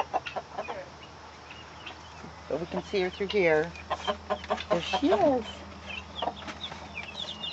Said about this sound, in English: Strutting around and clucking, her little babies.